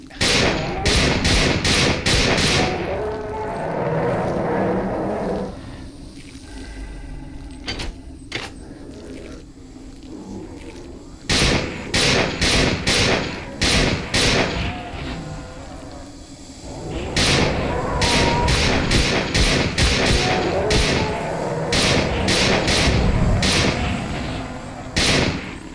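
Assault rifle fire in System Shock 2, rapid bursts of sharp repeated shots in several long volleys separated by quieter gaps with thuds and ambient hum.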